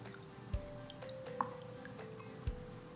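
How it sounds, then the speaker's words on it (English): Lemon juice dripping through a mesh strainer into a measuring cup, heard as a few quiet, separate drips and soft liquid plinks against a faint hum. "and pour the juice in."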